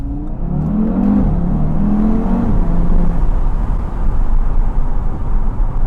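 A 2021 Audi TT RS with quattro all-wheel drive accelerating hard in first gear on a road, the engine note rising steadily and loudly from inside the cabin before levelling into a strong drone.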